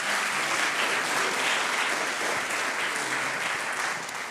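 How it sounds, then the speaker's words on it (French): An audience at the 2023 Ardenne Métropole business awards ceremony applauds, a sustained, even roar of many hands clapping filling the hall for several seconds without pause. "on vous applaudit bien fort"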